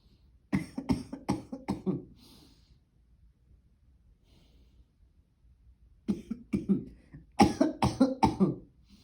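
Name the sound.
patient coughing in proning position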